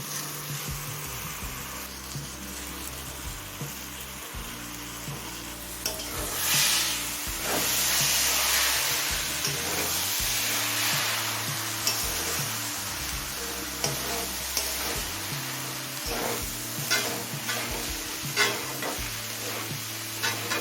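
Rice and lentils being stirred and fried with spices in a pan for khichuri, a steady sizzle with scraping stir strokes running throughout, close and fairly loud, with no voices.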